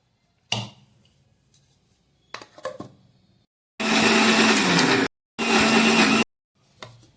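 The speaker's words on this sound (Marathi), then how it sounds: "आपण मिक्सरच्या भांड्यात घेऊन ह्याची आता पेस्ट करून घ्यायची।" A mixer grinder whirs loudly in two steady bursts of about a second each, separated by a brief pause, after a few clinks and knocks, blending vegetables into a paste.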